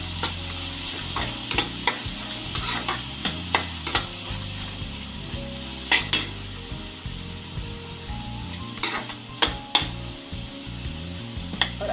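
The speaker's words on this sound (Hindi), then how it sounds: "आधा मिनट हम इसको भी थोड़ा चला लेते हैं।" Chopped onion and capsicum frying in a pan, a low steady sizzle broken by scattered scraping knocks of a spoon stirring the vegetables, close by and with no voices.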